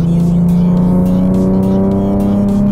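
A 2009 Nissan 370Z engine drones steadily at a constant, strong hum with rising harmonics, loud and close, with no talking over it.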